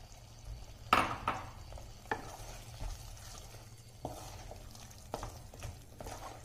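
Meal maker chunks being stirred into biryani in a pan, giving a few soft scraping strokes and light thuds at an irregular pace, fairly quiet over a low steady background hum.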